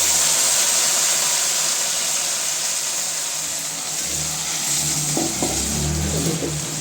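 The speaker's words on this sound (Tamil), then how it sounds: "கைவிடாமல் கொஞ்சம் நேரம் கிளறிக்கிட்டே இருக்கலாம்." Ground puffed rice halwa with cashews is stirred in a pan, giving a loud continuous sizzling hiss with soft scraping and a faint low hum beneath, growing slightly busier near the end.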